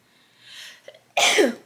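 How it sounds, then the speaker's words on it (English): A single loud sneeze up close, preceded by a soft sharp inhale building up before the burst. "I need to sneeze."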